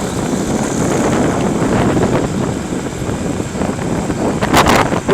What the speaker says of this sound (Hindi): ये जी हवा बहुत तेज़ है